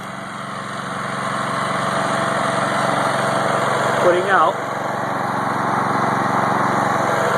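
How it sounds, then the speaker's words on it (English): A small DIY generator, built from a little engine and alternator, runs steadily under load with a constant buzzing drone close by, while a voice speaks briefly over it. "You got that little engine and that little alternator"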